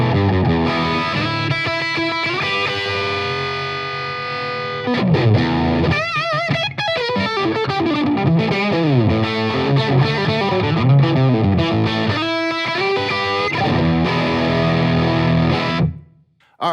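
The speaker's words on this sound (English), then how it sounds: "we combine the overdrive with a 65 Deluxe amp" An electric guitar played through an overdrive setting combined with a '65 Deluxe amp model on a Fender Champion 100XL, gain at midway, giving loud distorted chords and riffs that ring out alone before stopping abruptly.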